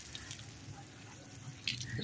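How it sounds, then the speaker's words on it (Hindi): A pet animal at a village mini zoo is washed with water on a hot day. The water makes a faint, steady running splash that swells slightly near the end, with no talking. "चलें जी हम लोग इसको नहलाते हैं अभी।"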